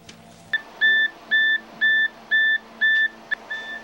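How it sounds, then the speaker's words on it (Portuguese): An earthquake warning alarm beeps in a steady series of six short, bright two-tone pulses, evenly spaced and close, over a quiet background. "Tocou o alarme terremoto"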